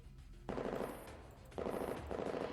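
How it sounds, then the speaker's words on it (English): Automatic gunfire in the video game Girls Frontline, two or three quick bursts of rapid shots separated by short pauses, fairly faint and heard without speech. "The sound of gunshots echoes through the communicator."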